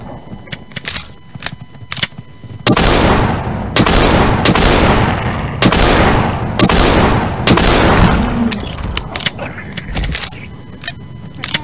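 Machine pistol firing in Gmod, a Walking Dead zombie game mod: loud rapid bursts of gunfire, several clustered shots repeating close up over about eight seconds, with sparse shots before and after.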